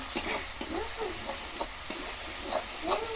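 Masala for chana masala fries in a pan while a spoon stirs it, a close, steady sizzle with soft scrapes that repeat at a regular pace, and no one speaking.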